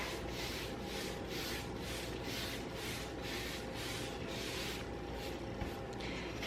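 Paintbrush dragging back and forth to blend Dixie Belle chalk mineral paint colors into an ocean look, a steady rhythmic scrubbing swish repeating about every half second, close and fairly soft.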